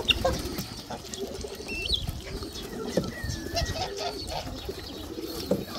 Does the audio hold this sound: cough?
no